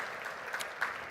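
A conference audience at Red Hat Forum 2014 applauds sponsors steadily, a dense wash of clapping that stays level for the whole moment without voices.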